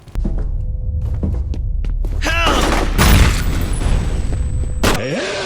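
A grenade from an underslung launcher goes off in the video game GEIST, a loud booming blast with a burst of broadband noise and debris near the middle, among other in-game thuds and effects.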